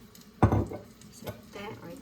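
A utensil scrapes and clanks against a pan as soy sauce is stirred into garlic butter chicken, with a solid knock followed by softer mixing sounds and a faint sizzle.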